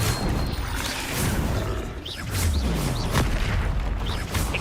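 Spell-casting in the Hogwarts Legacy video game, a Depulso force spell amid rapid combat: booming blasts, whooshes and crashing impacts layered over a loud, continuous rumbling game soundtrack.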